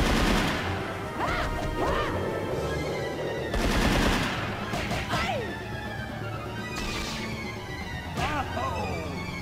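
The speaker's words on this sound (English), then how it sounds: "he uses that machine gun out of his head a lot more than he would have in the earlier stages" Bursts of boss machine-gun fire and crashing impacts ring out in the 1998 Sega Model 2B arcade game Dynamite Cop, several rapid rattling volleys spaced across busy game effects, with a voice talking beneath.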